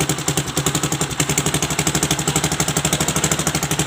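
A Viar three-wheeler's engine idles up close with a steady, loud, rapid chugging pulse, even and mechanical, with no voices over it.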